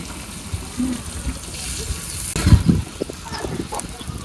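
Water is poured into a pan of spiced teasel gourd cooking on the stove, a brief close gushing splash in the middle over a low background hiss, followed by a few soft clinks.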